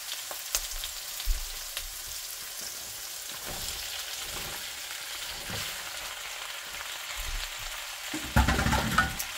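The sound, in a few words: stirring pasta with garlic and oil in a pan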